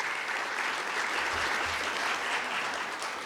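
Audience at a chamber of commerce business gathering claps in a steady, dense burst of applause lasting a few seconds, with no voice standing out.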